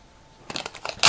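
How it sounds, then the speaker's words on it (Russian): A few quick snipping and crinkling sounds close by, scissors cutting strips from wide adhesive tape, ending with a louder rustle. "нарезаем скотча полоски"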